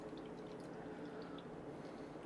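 Paulaner Oktoberfest beer is poured from a large can into a mug, a steady soft gurgling stream with faint fizzing, close and continuous.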